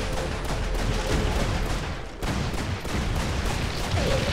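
A spread shot weapon in the shooter Steam or Vapor fires a dense, continuous crackle of rapid shots, loud and steady, with a brief dip in the middle before the barrage resumes.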